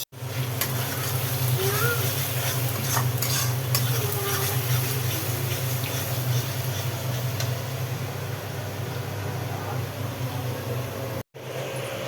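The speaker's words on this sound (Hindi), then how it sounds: "आज बन रही है आलू गोभी की ग्रेवी वाली सब्जी, जो कि बनेगी अदरक और टमाटर का पेस्ट डाल के" Aloo gobi gravy curry fries with ginger-tomato paste in a pan, making a continuous, dense sizzling hiss that stays steady and fairly loud with faint stirring clatter.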